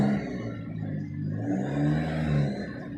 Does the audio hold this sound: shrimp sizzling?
no